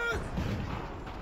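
Cannon barrage during a battle in Assassin's Creed 3 Remastered: a short stretch of muffled, rumbling artillery fire rolls on at a steady moderate level.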